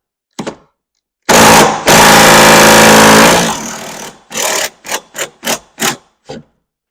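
Impact gun rattling on car rear suspension damper bolts during a DIY fit: a long, loud burst of hammering followed by a run of short, sharp bursts close by, with no talk.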